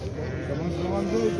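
Sheep bleat repeatedly at a sheep market in Jany Nookat, their wavering cries close and steady over a constant background of voices and crowd chatter.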